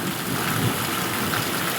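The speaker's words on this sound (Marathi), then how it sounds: "इकडे बी असा पाऊस आलाय" Rain drumming on a sheet-metal roof, a steady dense hiss with no break across the short stretch, fairly close and with no voices.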